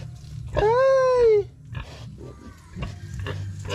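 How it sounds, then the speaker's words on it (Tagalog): Boar pig in a pen with a loud, drawn-out squealing call lasting nearly a second, followed by scattered grunts and rustling close by. "Ito yung barako ko na baboy mga kasinag."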